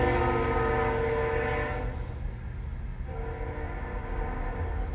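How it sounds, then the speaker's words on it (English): A train rumbles past with a sustained low roar and a long horn blast that fades midway, then a second horn tone returns; heard from a house, steady and fairly loud, with no talking. "There goes the train."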